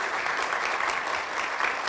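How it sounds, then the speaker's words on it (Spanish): A crowd applauds steadily, dense even clapping from many hands, fairly close and continuous throughout. "te damos este aplauso final para tu presentación"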